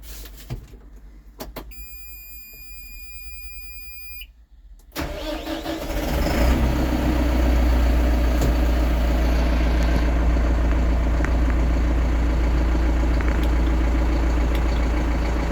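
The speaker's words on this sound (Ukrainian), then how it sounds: "Давайте заведемо машину." A Massey Ferguson MF 6713 tractor, 132 hp, starting up after a few quiet cab clicks and electronic chimes, its diesel catching with a rising rumble and then settling into a steady, loud, close idle.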